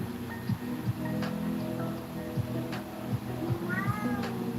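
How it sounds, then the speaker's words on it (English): A cat meows a few times, short and fairly close, over a steady background hum with faint patter. "Right back at you with that meow"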